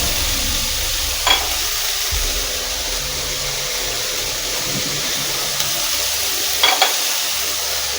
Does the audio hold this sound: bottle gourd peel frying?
yes